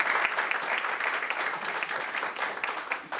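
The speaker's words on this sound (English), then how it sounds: "give Ben a hand of applause" An audience at a Constitution Day lecture applauds a speaker introduced at a university honors college: steady, moderately loud clapping from a room of people throughout, with no talking.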